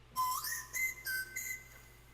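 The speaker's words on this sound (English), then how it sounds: "Stupid fucking jingle from that whistle." A small novelty candy whistle gives a short jingle of four shrill, rising toots in quick succession, close and clear against quiet background.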